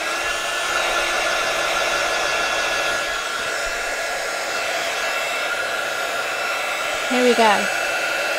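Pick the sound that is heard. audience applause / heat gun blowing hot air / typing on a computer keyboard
heat gun blowing hot air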